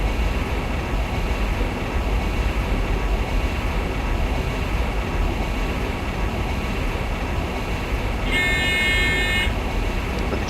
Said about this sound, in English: The train is now starting to brake for the upcoming 160 km/h speed limit.